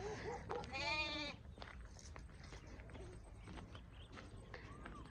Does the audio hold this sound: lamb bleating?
yes